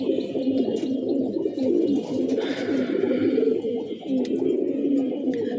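Pigeons coo steadily and continuously at close range, their low, throaty calls overlapping in a dense murmur, with no talking over them.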